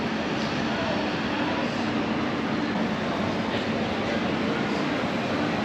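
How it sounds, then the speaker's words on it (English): Steady broadband rumble of Swedish trains at a station platform under a train shed, a continuous wash of rail and station noise with no distinct events. "Let's have a wee peek out on the platform at some Swedish trains"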